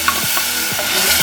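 Blended tomatoes hitting a hot pan for a Kenyan-style egg stew, a brief bright sizzle with faint scraping, close and steady.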